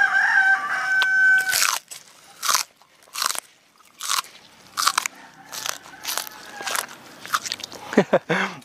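Crisp crunching bites into a fresh water spinach stem from an organically grown plant about 32 days after sowing, several sharp crunch bursts one after another at close range with no talk, after a rooster crows briefly at the start.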